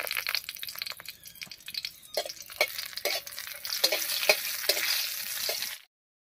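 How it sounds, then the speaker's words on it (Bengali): Dried chillies fry in hot oil, sizzling and crackling steadily, with sharp spattering pops and occasional stirring clicks, then cuts to silence. "তেল গরম হয়ে গেছে। তেলের মধ্যে প্রথমে কয়েকটা শুকনো লঙ্কা দিয়ে দিচ্ছি।"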